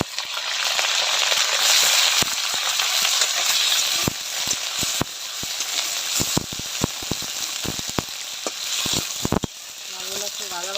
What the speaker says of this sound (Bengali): মাছগুলো একটু ভাজা ভাজা করে দিলাম।